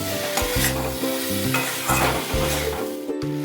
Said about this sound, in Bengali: দিয়ে খুব ভালো করে আমি কষাচ্ছি, প্রায় 5-10 মিনিট একদম লো ফ্লেমে কষাবো।